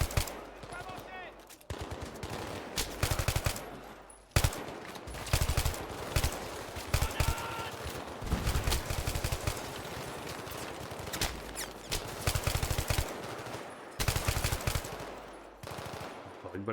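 Machine guns fire in the shooter game Battlefield 3 in long rattling bursts. Short pauses break up the firing, and shouted voices come through underneath.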